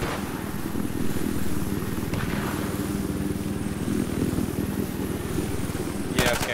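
A helicopter in the video game Battlefield 4 drones with a steady, dense rotor chop throughout, loud and close, with a brief click near the end.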